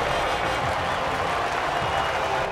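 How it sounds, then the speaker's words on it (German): Virtual fans cheer at the finish of the Las Vegas race in F1 23, a steady, dense wash of crowd noise and applause-like roar that holds evenly throughout the short stretch. "Die karierte Flagge weht und die Fans jubeln."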